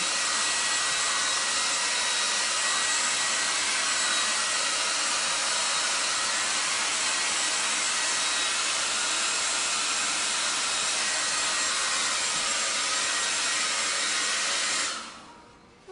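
A hair dryer blows steadily on a freshly applied vinyl transfer on a window, a loud, continuous airy roar that holds for about fifteen seconds before cutting off abruptly.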